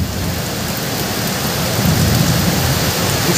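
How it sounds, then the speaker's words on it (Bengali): Heavy rain roars loud and unbroken in a thunderstorm, with deep thunder rumbling underneath the downpour throughout. No voices are heard. "দেখতেই পাচ্ছেন যে মাঝে মাঝে বিদ্যুৎ চমকাচ্ছে এবং সাথে মেঘের তীব্র জোরালো আওয়াজ।"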